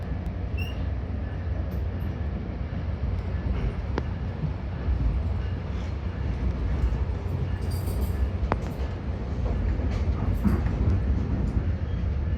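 An Orlando airport auto train, a commuter-style rail shuttle, runs steadily, its low rumble and rolling hum continuous and fairly loud with a couple of faint clicks and brief rattles, and no one speaks.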